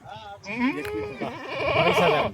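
Goats at a village goat sale bleat in close, overlapping cries that rise and waver for about two seconds, with voices mixed in.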